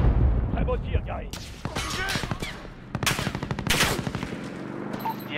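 Bursts of automatic gunfire and single shots crackle through combat in Call of Duty: Modern Warfare, loud and rapid, with intermittent voices mixed in among the shots.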